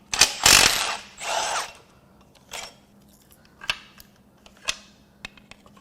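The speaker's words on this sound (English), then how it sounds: "I'm going to have to unbolt 2 of the bolts, this one and this one, so that it sags that way, so I can get that off" Ratchet clicks and metallic tool sounds while bolts are removed from an engine stand holding a 3.0 Duramax diesel engine from a 2020 Silverado 1500: a few short bursts of ratcheting, then scattered sharp clinks in a quiet workshop.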